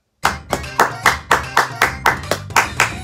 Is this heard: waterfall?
no